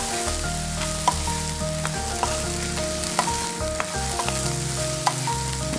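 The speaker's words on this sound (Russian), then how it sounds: "И все продукты будут жариться в нем." Zucchini and other vegetables frying in oil in a pan for an Indian vegetarian dish, a continuous sizzle with occasional sharp clicks and scrapes of stirring, close and clear with no talking.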